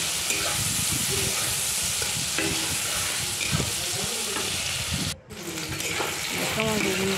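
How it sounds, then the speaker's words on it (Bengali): Eggplant fries in hot oil in a wok, a steady crackling sizzle with occasional scrapes and stirring clatter, the sizzle briefly cutting out before resuming. "আমার বেগুনগুলো ভাজা হয়ে গেছে"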